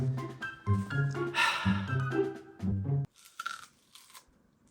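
Raw garlic being chewed close up, with wet crunching bites in bursts for about three seconds, then quieter mouth sounds.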